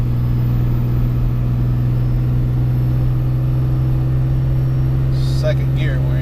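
A Ram 2500 truck with a 5.9 Cummins diesel and 48RE transmission, towing about 20,000 pounds uphill in second gear, droning steadily with a loud, constant low engine hum; a brief higher whine rises near the end.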